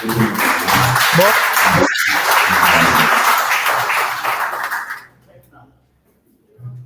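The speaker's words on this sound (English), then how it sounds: "let's give him a round of applause" An audience at a gun violence round table applauds the mayor of Uvalde, dense clapping for about five seconds that stops abruptly, leaving near silence with faint low sounds.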